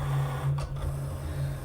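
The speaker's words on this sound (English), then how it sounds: "I apologize for the noise, but if you have a Cricut, you know that they are loud." A Cricut cutting machine works on paper, giving a steady mechanical motor hum with a low tone and brief whirring shifts as the carriage moves, loud and close, with no talking.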